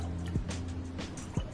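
Nut Pods creamer splashes into a cup of coffee in a couple of brief, soft liquid drips over a steady low electrical hum, close and fairly quiet.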